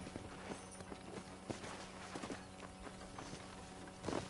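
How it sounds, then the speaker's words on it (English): Horse hooves clip-clop at a steady gait while riding on a ranch in the video game Red Dead Redemption, soft repeated thuds under low background ambience and faint game sound. "let's see if you can still ride a horse"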